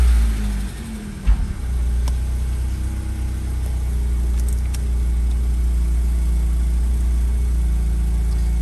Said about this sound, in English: let me do a cold start